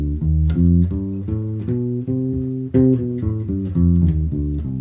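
A harmonic minor scale on a keyboard instrument, played note by note in an even stepwise run, with clear sustained pitches and no talk over it.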